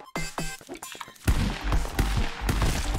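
Gunfire in the stick-figure fighting game Stick Fight: a few sharp shots early, then a louder burst of heavy, crashing shots from about a second and a half in, near and loud with no talk over it.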